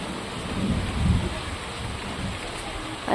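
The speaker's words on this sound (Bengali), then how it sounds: "এখানে বৃষ্টি শুরু।" Steady rain hiss beginning outdoors during a lunch of fried rice and chicken, broadband and continuous with a low rumble swelling midway and a brief louder burst at the end, no voices.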